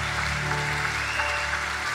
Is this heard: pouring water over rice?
no